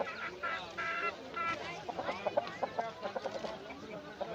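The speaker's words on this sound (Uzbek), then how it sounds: "Tavuq bilan xo'roz" Chickens and roosters cluck and squawk at a busy poultry market in Gijduvan, with repeated short calls close by and the murmur of people talking in the background.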